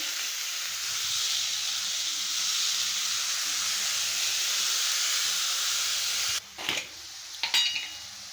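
Fresh dill greens for shepu bhaji hit a hot pan and set off a loud, steady sizzle and hiss. Near the end the spatula stirs in a few sharp scraping bursts.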